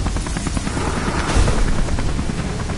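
Helicopter in the Beyond Two Souls video game, a steady, loud rotor drone with dense low thumping and broadband whoosh that swells briefly near the middle, with no talk over it.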